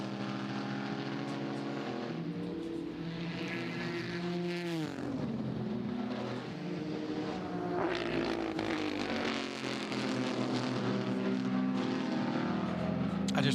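Race cars lapping the circuit at the 2017 24 Hours of Le Mans, engines rising and falling in pitch as they brake and accelerate through corners, with several passes overlapping in a continuous roar.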